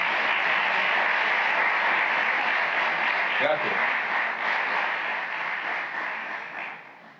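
A theater audience at an amateur play gives the technical crew sustained applause that gradually fades toward the end, with a brief spoken thank-you in the middle.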